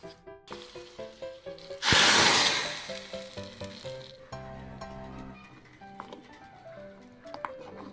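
Spices and chili powder hit hot oil for a Kerala-style banana curry, a burst of loud sizzling that fades into softer crackling, with scattered knocks and taps throughout.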